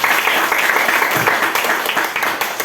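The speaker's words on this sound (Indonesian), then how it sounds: "Tepuk tangan buat kita semua." A classroom group claps together in steady applause during a lesson on computational thinking, a dense, continuous patter of many hands filling the room at close range with no talk over it.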